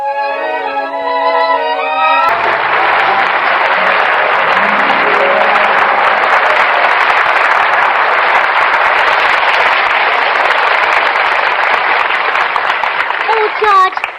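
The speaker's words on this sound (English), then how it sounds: "I heard all that applause outside" Loud, dense applause from a large audience bursts in after a short stretch of voices and music, sustained as a continuous roar of clapping before fading at the end; part of a comedy radio show.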